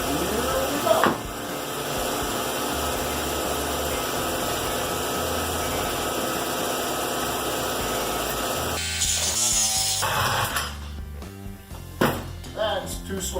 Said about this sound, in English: Why not cut these studs off and put it back in the holes?